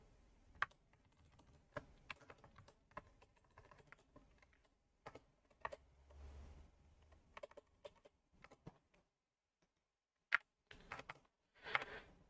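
Typing on a computer keyboard in a quiet room: irregular bursts of sharp key clicks with short pauses, close and fairly faint, a few louder taps near the end, no talking.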